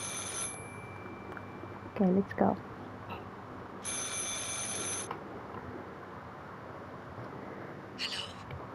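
A phone in the game Martha Is Dead rings in short electronic bursts, the first at the start, another around the middle and a faint one near the end, with brief talk between the rings.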